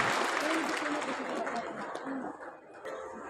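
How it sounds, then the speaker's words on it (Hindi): An audience at a public gathering at Mehandipur Balaji applauds in a dense, steady wash of clapping that fades slightly toward the end, with crowd chatter and a voice speaking underneath. "आपको जोर तालियों का समर्थन दीजिए"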